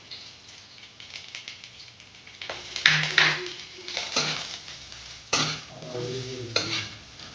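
Nigella seeds hitting hot oil with already-fried onion in a pan, bursts of crackling sizzle and scraping stirs that rise and fall, with a few metallic clinks from the utensil, close by and without speech.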